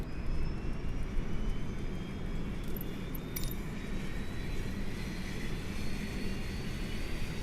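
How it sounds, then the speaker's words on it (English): A Fokker 28 regional jet's APU runs in a flight simulator, a steady broadband turbine roar with a faint high whine holding evenly throughout, no voices. "So now we're going to go in right into the start the APU."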